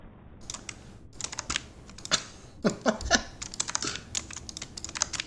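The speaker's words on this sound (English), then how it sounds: "Guess you can probably hear my keyboard." Computer keyboard typing picked up by a webcam microphone, a busy run of clicky keystrokes in irregular bursts with short pauses, close and fairly loud, with no talking.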